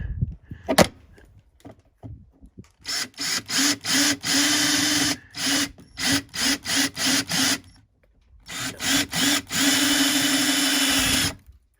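A power drill whirs in repeated short bursts, drilling holes to install a windshield on a 2021 Honda Pioneer 1000-5, starting and stopping with brief pauses between, close and loud, with a longer steady run near the end.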